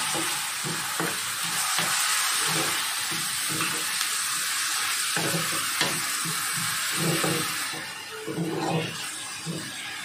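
Ginger-garlic paste, kokum and tomato fry in a pan for prawn masala, giving a loud, continuous crackling sizzle with irregular stirring scrapes throughout, easing slightly near the end.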